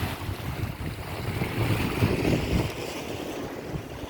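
High seas roll in against the coast at Strunjan, Slovenia, a constant broad rush of surf mixed with wind buffeting the microphone, with no voices.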